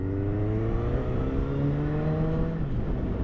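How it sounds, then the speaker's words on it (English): A Suzuki Hayabusa motorcycle engine revs up through rising gear pulls, a loud, close droning tone climbing in pitch, dropping briefly, then climbing again. "I'm actually going to put a few kilometers on this bike, well, on a Hayabusa"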